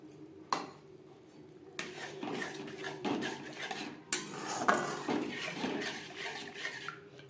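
A spoon scrapes and knocks against a pot while stirring a cashew, raisin and melon-seed paste ground with milk into cooked spice masala for navratan korma, a series of scraping strokes and clinks up close.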